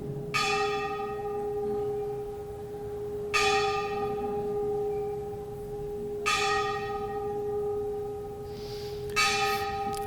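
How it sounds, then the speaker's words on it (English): A temple bell at a Gurukul is struck four times at steady intervals of about three seconds, each clang ringing bright and clear over a constant low hum that fills the quiet between strikes. "this bell, we would hear this bell throughout the whole day"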